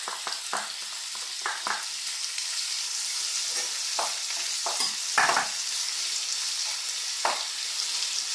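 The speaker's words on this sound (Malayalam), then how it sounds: "ഇനി ഇതെല്ലാം കൂടെ നന്നായിട്ട് വഴറ്റിയെടുക്കാം" Onion, garlic, ginger and green chillies sautéing in a pan for prawn biryani, a bright continuous sizzle with repeated scraping strokes of a spoon stirring the mix, close and fairly loud, no voices.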